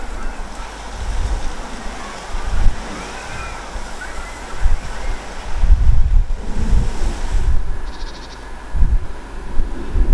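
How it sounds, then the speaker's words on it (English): Fierce gusting wind buffeting the microphone with waves surging in the background, a continuous loud rumbling roar that swells and eases in gusts. "the weather becomes even more changeable and the wind suddenly becomes fierce"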